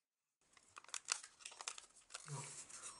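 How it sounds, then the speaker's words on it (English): Origami paper being folded and creased for a dragonfly, giving close, crisp crinkles and rustles in quick bursts, then a softer steady rustle. "We create a new fold here."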